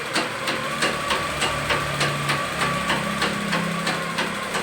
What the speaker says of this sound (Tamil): இப்போ நான் தைச்சி பார்க்குறேன் தையல் நம்மளுக்கு கரெக்டாக விழுகுதா அப்படின்னு நான் தைச்சி பார்க்குறேன்